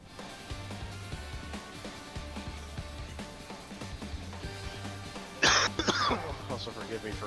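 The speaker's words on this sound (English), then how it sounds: "forgive me for constantly coughing" One person gives a quick pair of sharp coughs, close and loud, over steady background game music.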